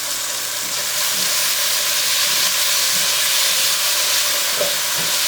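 Steady loud sizzle of frying in olive oil in a pan while making tortellini, a continuous hiss with faint clinks underneath and no talking.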